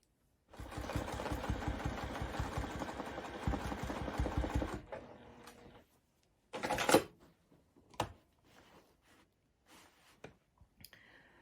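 A sewing machine runs steadily for about four seconds while quilting a baby quilt, a close rhythmic whirring stitch. It stops, and then come a few scattered clunks and handling knocks.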